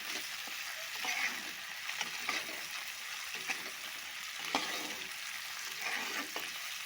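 Tomatoes hit hot oil in a pan with raw green chillies while making a Bengali onion-tomato tok, giving a steady close sizzle and crackle with occasional scraping stirs and no talking.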